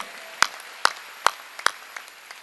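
Congregation at a prayer service for the nation clapping in a slow, steady rhythm, four sharp claps about half a second apart, then fainter ones trailing off.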